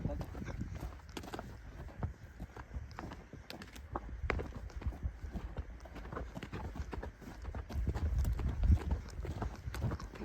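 Hoofbeats of a horse moving fast across open steppe, irregular soft thuds and clops at moderate distance, with people talking throughout.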